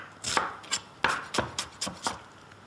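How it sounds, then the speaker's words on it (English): A knife roughly slices capsicum on a kitchen board, about seven crisp, evenly spaced chops sounding close and clear with no talking. "So we'll just roughly slice this."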